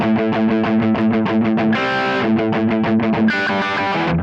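Heavily distorted electric guitar runs the rhythm part up to speed, with fast driving palm-muted chugs punctuated by two ringing open chords, loud and close with no voices.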